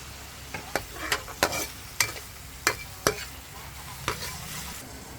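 Shrimp goes into ground pork frying in a pan for ginisang upo, with a soft sizzle under a series of sharp, close spatula clacks and scrapes as the mixture is stirred.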